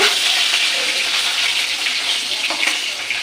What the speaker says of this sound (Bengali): এখন ওই মাছগুলো ভাজবো